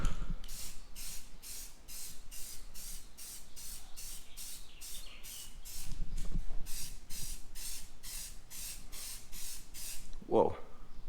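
Satin black metal spray paint hisses from an aerosol can in about twenty short, evenly spaced bursts, close and steady, with a brief voice near the end.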